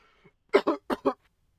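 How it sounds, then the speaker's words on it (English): Four quick, close coughs in a rapid cluster from a man at a microphone, with a faint throat sound just before them and silence around. "Man, this cough is bad today."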